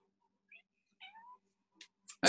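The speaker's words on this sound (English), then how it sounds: "Cat just jump to the window" A cat near a window gives a few short, soft meows in quick succession, followed by a sudden loud thump at the end.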